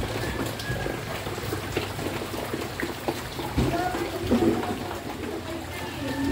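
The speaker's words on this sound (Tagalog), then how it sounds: "Pero mabilis naman ang ano ng tubig o agos." Fast-flowing floodwater from Typhoon Enteng rushes steadily in a constant broad roar, with a few voices faintly underneath.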